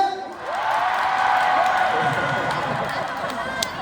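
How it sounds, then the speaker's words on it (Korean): Front-row fans at a Daegu song festival concert let out a big cheer on cue, a dense wall of shouting and whooping that rises quickly and stays loud throughout. "우리 앞에 분들 함성 한번 들어볼게요"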